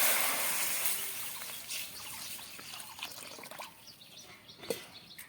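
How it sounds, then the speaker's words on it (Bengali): Water is poured into a wok, giving a hissing splash that starts strongly and tapers into trickling and dripping, close and fairly quiet. "প্রথমে কড়াইয়ের মধ্যে জল দিয়ে দেবো"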